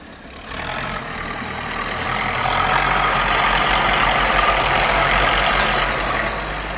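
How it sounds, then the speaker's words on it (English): A Bombardier sidewalk snow-clearing vehicle on a Montreal street after a snowstorm runs its engine in a steady, loud, low diesel rumble that swells slightly as it draws nearer and holds constant, with no talk over it. "there's our beloved sidewalk cleaner, made by Bombardier"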